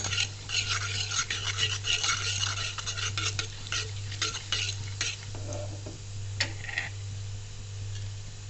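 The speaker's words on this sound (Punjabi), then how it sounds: "ਤੇਲ ਆਪਣਾ ਹੋ ਗਿਆ ਗਰਮ ਹੁਣ ਆਪਾਂ ਇਹਦੇ ਵਿੱਚ ਥੋੜਾ ਜਿਹਾ ਪਾਵਾਂਗੇ ਜੀ ਧਨੀਆ ਤੇ ਜੀਰਾ ਇਹਨਾਂ ਨੂੰ ਭੁੰਨ ਲਾਂਗੇ" Coriander and cumin roasting in hot oil, stirred in a pan for bread pakoda; quick scraping and clinking strokes with a light sizzle over a steady low hum, close and without talk.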